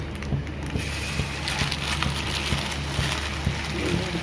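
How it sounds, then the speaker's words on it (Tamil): Murukku frying in a pan of hot oil gives off continuous dense bubbling and crackling at close range, a steady hiss with small pops throughout. "இந்த சத்தம் அடங்கினா தான் முறுக்கு வெந்ததாக இருக்கும்"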